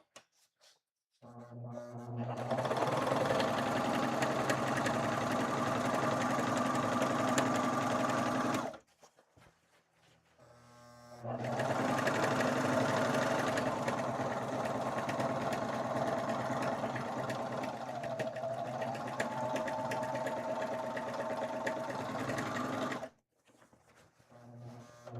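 A sewing machine stitches a Link costume from The Legend of Zelda: Twilight Princess, running in two long, steady bursts with a brief stop between them and quiet at each end.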